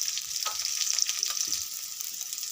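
Chopped onions fry in a pan for a home-style Odia potato-paneer curry, with a dense, continuous crackling sizzle and faint stirring sounds close by, with no one talking.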